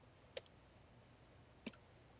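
Two crisp, isolated clicks from pressing arrow keys on a computer keyboard, spaced about a second apart, close but faint in an otherwise quiet room.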